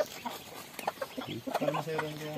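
Chicken on a Philippine duck-raising farm clucking in short, close, repeated bursts that build into a sustained call at the end.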